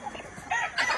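A Sweater or Kelso gamefowl rooster on a Philippine farm lets out a short, near crow, rising in the second half of one second.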